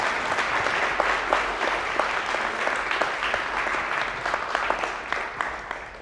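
Applause at a crypto community meetup, a steady round of clapping from a small-to-medium crowd with crisp individual claps throughout, continuous and fairly close for the full duration.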